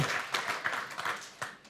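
Sparse, faint clapping from a small conference audience comes as a handful of scattered claps and taps, distant and thin, fading out quickly.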